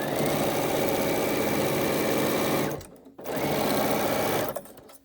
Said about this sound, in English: Sew the two rectangles together with that folded triangle in there.